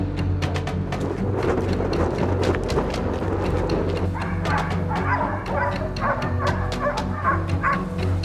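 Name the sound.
pack of hunting dogs barking at a wild boar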